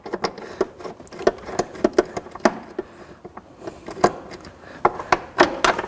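Hand ratchet loosening 10mm bolts on a BMW trunk-side panel during a BavSound Ghost subwoofer install, giving a series of sharp, close clicks and metallic snaps in irregular bursts with no talk.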